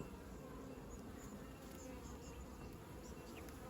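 Honeybees buzzing around an opened beehive during a brood inspection, a dense steady drone of many insects with higher individual wing whines passing close by, continuous and fairly loud throughout with no talking.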